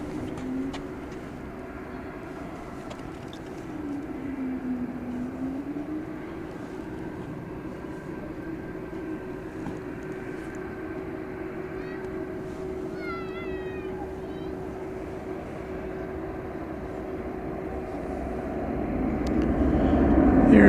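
American Airlines jet departing DFW Airport on a Friday night: a steady, distant engine roar and hum runs throughout, rising and swelling louder in the final seconds as the aircraft draws closer.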